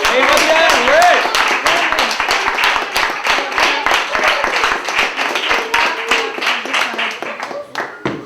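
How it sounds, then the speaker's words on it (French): An audience at a festival gives a long burst of loud applause, with many hands clapping in a dense, rapid patter that fades slightly toward the end, and voices call out over it. "Et on applaudit très fort."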